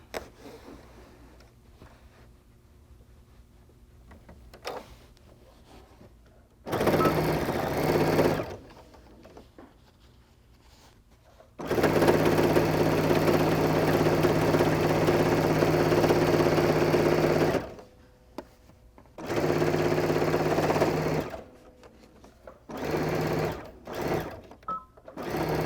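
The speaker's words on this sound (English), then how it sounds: "When you're sewing over multiple layers, it can be rather intimidating, but just don't worry, keep going." A domestic sewing machine stitches through several thick fabric layers of a handbag lining, running in steady whirring bursts of a few seconds each, separated by quiet pauses and a few short stop-start pulses near the end.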